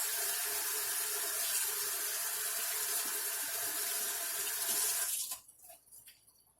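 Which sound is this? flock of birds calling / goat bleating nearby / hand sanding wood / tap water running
tap water running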